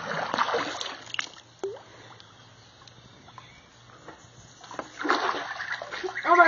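A duck dives while swimming and throws up splashing water in a short burst at the start. A few faint drips follow, then a second stretch of splashing swells at the end.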